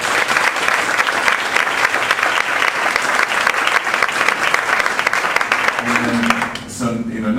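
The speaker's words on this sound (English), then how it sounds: "And let's give Dave Linabury one more big round of applause." A lively crowd gives a big round of applause for a speaker at a local talk event, loud sustained clapping that starts to taper near the end as a voice begins over it.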